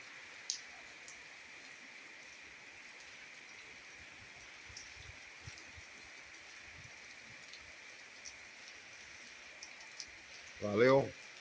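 Water drips through leaks in a roof during rain in Campo Grande, Rio Grande do Norte, sparse faint taps scattered over a quiet wash of rainfall, with a short burst of voice at the very end.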